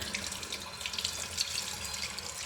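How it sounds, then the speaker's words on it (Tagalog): Strong, steady flow of deep-well water runs from a tap or hose into a sink, a continuous hissing splash that stays close and even throughout with no talking. "malakas naman ang tubig namin guys dito"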